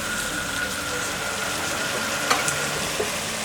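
Soya chunk fried rice sizzles in a pan as vinegar goes in, a steady close hiss of frying with a couple of faint clinks and no talking.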